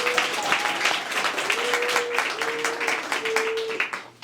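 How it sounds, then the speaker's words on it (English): An audience at a recognition ceremony applauds; the clapping is continuous and fairly loud, with a few sustained tonal notes rising over it before it tapers off at the end. "So can we give them a round of applause?"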